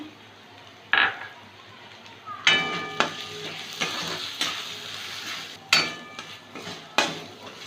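Onion frying in a pan with a spoonful of ginger paste and chopped green chilies, with light sizzling and a few sharp scrapes and clinks of a utensil against the pan at intervals.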